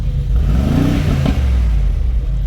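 Close, loud Honda Civic FL5 engine in Sport Plus rises in a quick rev and drops back, with a short crackling pop from the exhaust as the revs fall, over a steady idle rumble.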